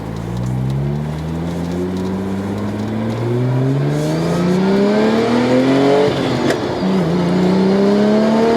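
LibertyWalk Porsche 911 (997) Turbo with a gearbox fault, driven fast in Manila: the engine rises steadily through the revs, a harsh clunking gear change breaks the climb, then it pulls again, loud and close from inside.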